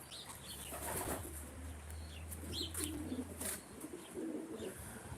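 A racing pigeon in a loft coos in soft, low murmurs beneath fluttering wing flaps and light rustling, faint and close, with other birds chirping sporadically.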